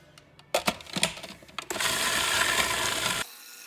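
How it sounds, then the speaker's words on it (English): A blender whirring through homemade ricotta, starting with a few clattering knocks and scrapes before a steady, loud motor roar for about a second and a half that then cuts off abruptly. "and then continue to blend."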